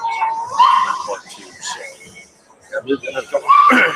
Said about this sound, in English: we hear the barking dogs in the background too